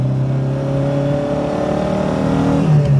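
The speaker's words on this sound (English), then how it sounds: "Quite a vocal little engine, I'm going to say." A small Seat Ibiza hatchback engine drones steadily with a buzzy, vocal tone, its pitch shifting slightly under load and rising again near the end.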